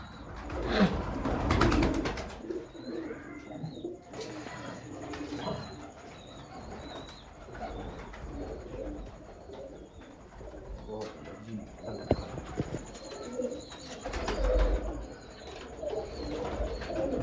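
Pigeons coo in low, repeated murmurs over a busy background with birds chirping and voices talking nearby.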